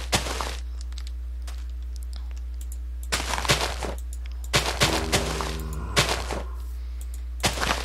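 A gun firing in Minecraft with Flan's Mod, loud sharp cracks in a handful of separate bursts over a steady low hum, alone without talk.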